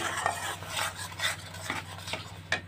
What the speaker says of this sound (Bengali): এটাকে দিয়েও কিন্তু খুব সুন্দর করে একদম ভালো করে আমাদের কষাতে হবে, যতক্ষণ এর মধ্যে তেল না ছেড়ে যাচ্ছে।